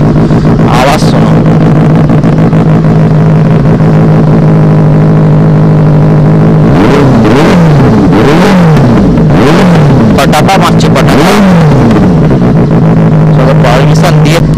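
A Benelli 600i motorcycle fitted with an SC Project exhaust idles loudly, then gets blipped through a series of sharp, rising revs before settling back to idle, with people talking nearby throughout.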